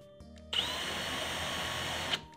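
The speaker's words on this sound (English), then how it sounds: "I've got a 3/16 drill bit, and I'm gonna make sure that that hole is drilled out to that size." A power drill with a 3/16 drill bit bores a hole during a furniture repair, a steady, fairly close whirring drone running about two seconds after a brief lead-in, with a short surge as it stops.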